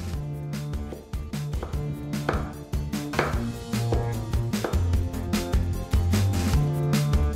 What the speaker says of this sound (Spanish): Voy a terminar de picar la cebolla y nos vamos al sofrito.